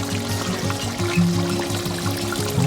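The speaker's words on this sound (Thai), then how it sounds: "ใส่น้ำนิดหน่อย" A little water poured into a pan of beef panang curry makes a short, close, continuous pouring and gurgling sound.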